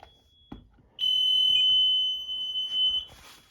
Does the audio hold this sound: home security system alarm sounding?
yes